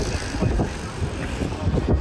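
Strong wind buffets the microphone outdoors with a loud, continuous low rumble, and a dress flaps in the gusts.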